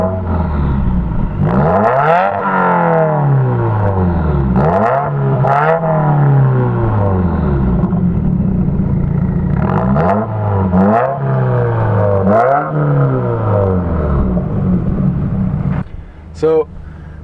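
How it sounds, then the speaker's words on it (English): A 2015 Subaru WRX with a muffler-delete exhaust revs loudly in repeated rising and falling sweeps, with several throttle blips close by and a brief clatter at the end. "one modification I've done is the nameless performance muffler delete exhaust"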